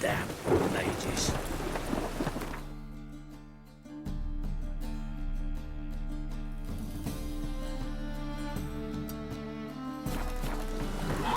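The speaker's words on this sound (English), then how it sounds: "Rain again. Damn mages." Rain hisses in The Witcher 3 while low rumbles roll underneath, and sustained musical tones layer over the weather through most of the stretch.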